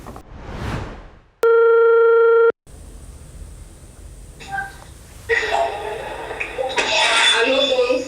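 A steady electronic telephone tone on a radio show's call-in line sounds for about a second, loud and even, before the connection opens onto room noise, splashing-like rustle and voices.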